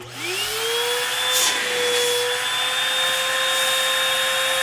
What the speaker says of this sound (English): We can just use a regular vacuum.